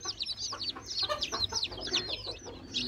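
Four-day-old chicks eating a feed mix peep in rapid, high-pitched bursts close by, a busy chorus of tiny chirps with soft clucking underneath.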